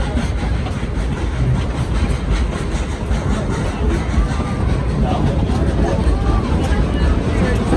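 The Dollywood Express steam train rumbles along, its heavy low roar and rhythmic rail clatter continuous and close, with voices of riders faintly underneath.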